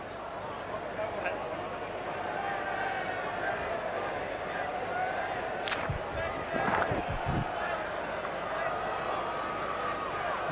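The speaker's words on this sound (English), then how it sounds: "Oh, the crowd are loving it, and so am I." Cricket stadium crowd roaring and cheering loudly and continuously at a farewell match for Shahid Afridi, a dense wash of noise with a few sharp claps and bangs.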